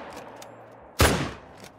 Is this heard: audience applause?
no